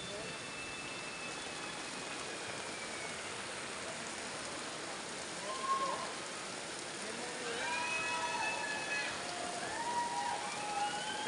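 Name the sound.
heavy rain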